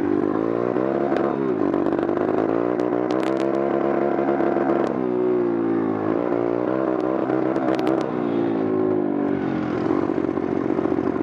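A small motorbike engine idles steadily, then revs up and pulls away, its rough harmonic drone rising and falling through gear changes, loud and close throughout with a faint clatter.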